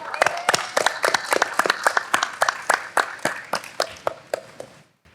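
A small audience at a stage event gives a short round of applause. Distinct, sparse hand claps ring out for about five seconds and then fade to silence.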